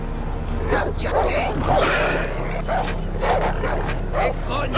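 A dog barking and whimpering in the video game Far Cry 3, repeated yips and barks in an irregular rhythm over steady low background rumble, with voices talking over them.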